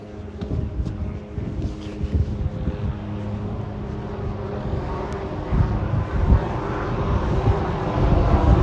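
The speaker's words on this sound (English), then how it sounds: "Wait for this helicopter to go by." A helicopter passes by outdoors, its low, steady rotor and engine rumble filling the background and growing slightly louder toward the end, with no talk over it.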